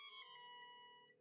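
Mobile phone ringtone going off indoors, a bright melodic electronic tone with steady sustained notes ringing clearly for over a second, loud and alone with no talking.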